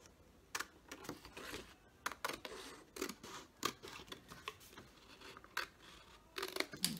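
Scissors snipping paper along the outside line of an envelope shape, a series of short quiet crisp cuts in irregular rhythm, close up with no talking.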